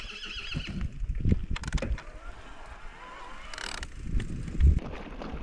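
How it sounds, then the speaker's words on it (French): A horse whinnies loudly twice, close by, with a shuffle of hooves and outdoor background noise between the calls, near Les Bouillouses in the Pyrenees. "Là, nous avons quelques chevaux"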